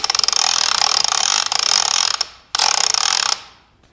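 A frame machine is ratcheted in two quick bursts of rapid, loud metallic clicking close by, with a short pause between them and a fading tail after each.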